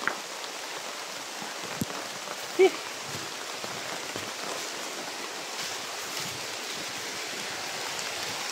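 Heavy rain pours in a dense, steady hiss with no break, with a couple of faint knocks early on.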